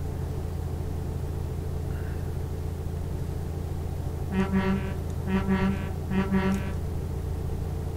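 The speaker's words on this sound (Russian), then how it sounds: "Гудок прикольный." A deep Scania R730 truck horn in Euro Truck Simulator 2 sounds three times in short blasts over a steady low engine rumble, with no talking.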